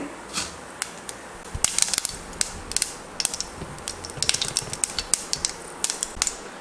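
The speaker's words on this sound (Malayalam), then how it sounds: "കടുക് പൊട്ടിക്കഴിഞ്ഞു" Mustard seeds pop and crackle in hot coconut oil in a pan, giving a steady run of sharp, irregular close-up snaps with no talking.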